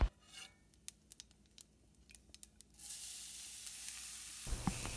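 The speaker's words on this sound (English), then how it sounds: "Fry all these ingredients." Ingredients, including a pinch of asafoetida, fry in a pan for a carrot moong dal curry: a few sparse clicks and taps first, then a steady, close hiss of sizzling that swells and holds to the end.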